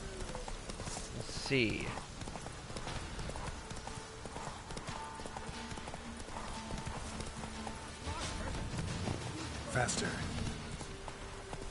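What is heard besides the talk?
horse galloping hoofbeats in video game The Witcher 3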